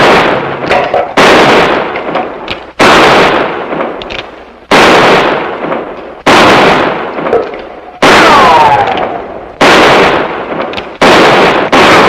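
Rapid gunfire in an old western drama: about eight loud, sharp shots in steady succession, each followed by a short ringing decay, close and dominant with no talk over them.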